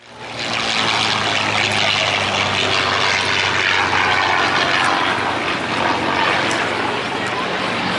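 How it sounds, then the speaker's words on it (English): A B-25 Mitchell bomber, the Yankee Warrior, runs its propeller engines at an airshow, a loud, sustained roaring drone that swells in within the first second and holds steady throughout, with some speech blended underneath. "But the Yankee Warrior and which is the B-25 Mitchell bomber."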